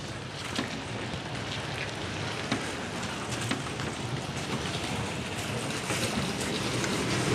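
Heavy rain pouring down outdoors in Canada, a dense, steady hiss of drops striking surfaces, loud and unbroken throughout with no talking.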